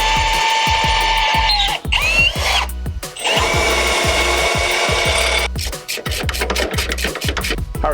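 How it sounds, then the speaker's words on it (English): A power drill boring holes into the metal frame of a racing lawn mower, loud and close, the motor whining steadily with brief pauses and bursts of grinding as the bit bites. "So just going to drill some holes and bolt it to the frame"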